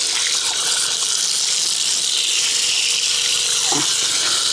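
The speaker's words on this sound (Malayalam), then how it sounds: "നമുക്ക് വെള്ളം ഒഴിച്ചു കൊടുക്കാം" A steady gush of water pours continuously close by, a bright hissing stream with no pauses.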